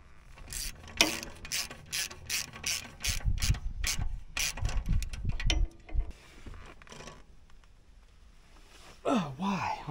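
A hand ratchet turns a socket on a DIY bridge build, giving a run of rapid, evenly spaced clicks up close, then rougher scraping and knocking. Voices come in near the end.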